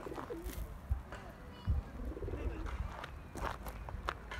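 Pigeons coo softly in a coop while pecking at feed, low burbling calls repeating close by, with scattered rustling and a few footsteps mixed in and someone speaking quietly nearby.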